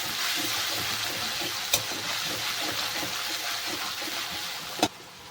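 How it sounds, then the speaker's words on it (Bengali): Chili paste with cumin paste sizzles in hot oil in a pan for a thin rohu fish curry with coriander leaves, a steady broadband frying hiss throughout, near and fairly loud, with two sharp clinks of a spatula against the pan. "দিয়ে দেবো লঙ্কা বাটা ভালো করে একটু কষিয়ে নিতে হবে"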